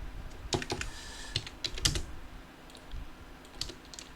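Quick CAD commands entered on a computer keyboard, a fairly close run of uneven key clicks and taps in short clusters with brief pauses, no voices.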